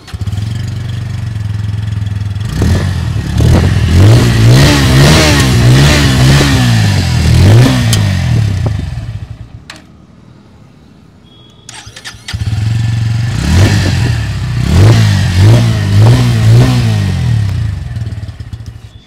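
A 2024 Bajaj Pulsar N150 motorcycle engine starts up close and loud, then idles and revs in rising and falling surges, cuts off briefly, and is restarted and revved again.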